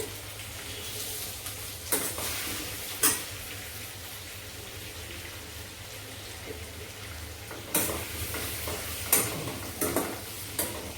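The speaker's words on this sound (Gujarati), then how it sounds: "તો આપણે પાલક તળવા કરીએ છીએ." Spinach for palak paneer frying in a pan, a gentle continuous sizzle broken by a few louder stirring scrapes and clatters, close and fairly quiet.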